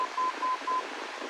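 Aviation radio navigation beacon sending its Morse code identifier: four short, evenly spaced steady tone beeps over continuous radio hiss, as heard in the cockpit during a flying lesson on diversions and position fixing.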